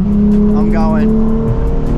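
A Nissan 350Z on the freeway with its engine held at a steady high rev, a loud continuous drone with a brief rising sweep partway through, heard from inside the car.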